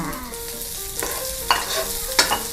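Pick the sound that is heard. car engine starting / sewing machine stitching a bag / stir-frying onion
stir-frying onion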